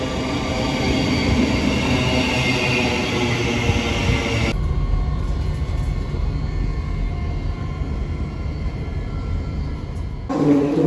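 A train rumbles loudly at a railway station, with a steady roar of wheels and carriages that cuts off abruptly partway through and then returns near the end, heard up close with no talking.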